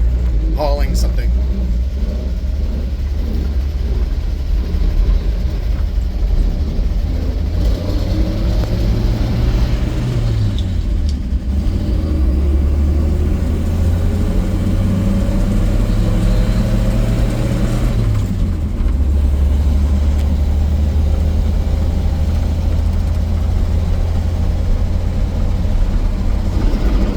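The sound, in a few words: 1959 Chevrolet Apache truck driving in low gear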